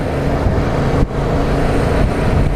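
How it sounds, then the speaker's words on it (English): A Yamaha MT-07 motorcycle engine runs loud and close on the move, a dense continuous roar with a brief dip near the middle as the throttle is eased and reopened, with no talking. "Revving the throttle, but the throttle's very light and it's very responsive"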